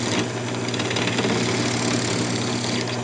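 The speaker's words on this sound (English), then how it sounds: "I'm just using my bowl gouge to just go straight through it." Bowl gouge on a wood lathe cutting straight through a waste block while turning a Christmas ornament, giving a continuous loud droning hum with a steady scraping texture, close up and without talk.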